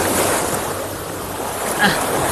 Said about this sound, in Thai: พามาดูท้องทะเลกันสักเล็กน้อยนะครับ